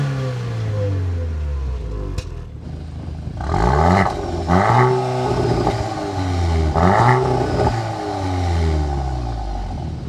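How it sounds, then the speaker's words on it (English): A Subaru WRX flat-four on its stock exhaust and a Golf R engine rev in turn, with deep throbbing revs swelling and falling back to a steady idle several times, loud and close. "This flat 4 has a really distinct tone that you don't get with the inline 4. It's got kind of this cool little thrum to it."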